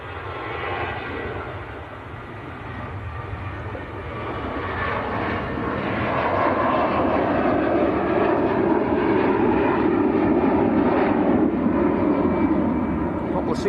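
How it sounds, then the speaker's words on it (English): A Jet2 Airbus A321, the non-Neo version, departing Manchester Airport: a steady, broad engine roar that builds gradually and holds loud and sustained for over ten seconds, with faint talk beneath. "This is an Airbus A321,"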